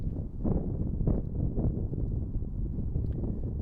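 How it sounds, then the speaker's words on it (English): Low, rumbling wind buffets a DJI Mic steadily throughout, a continuous blustery roar with no other clear sounds. "we will definitely hear more of the wind noise and the surrounding sounds around me"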